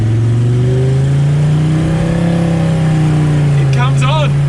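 A car engine running on vegetable oil is revved at full throttle, a loud steady drone that holds high and strong throughout, with a voice shouting over it near the end.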